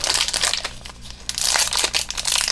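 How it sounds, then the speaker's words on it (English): Foil wrappers of My Little Pony trading card packs crinkle and crush in steady bursts close by, loud and busy with brief quieter gaps. "we're just gonna continue opening up these cards."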